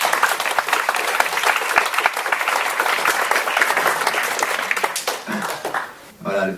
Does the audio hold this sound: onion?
no